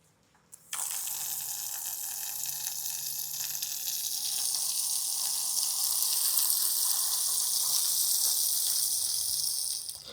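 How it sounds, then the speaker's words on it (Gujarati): A strong, forceful stream of water gushing from a tap, starting abruptly and hissing loud and steady at close range for about nine seconds before easing off, with no talk. "આ નળમાં છે ને એટલું તગડું પાણી આવે ને."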